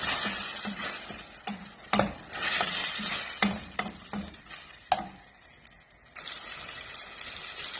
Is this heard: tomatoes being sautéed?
yes